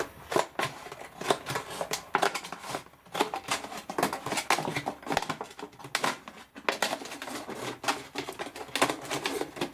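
Scissors snip repeatedly through a plastic bottle, a series of close, crisp crunching cuts in an uneven rhythm with brief pauses.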